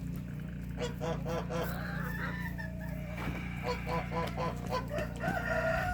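A chicken in a yard squawks and clucks in repeated loud bursts, with other fowl honking nearby over a steady low background hum.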